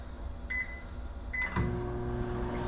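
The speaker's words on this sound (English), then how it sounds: "So I'm gonna set this in the microwave." Microwave oven melting chocolate: two short beeps as it is set, then a soft click and the steady low hum of the running oven, fairly quiet, no speech.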